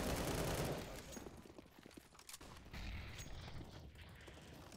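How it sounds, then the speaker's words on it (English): A grenade explodes in a first-person shooter match, a faint, rumbling blast burst at the start trailing into scattered gunfire crackle and noise. "Didn't see that nade."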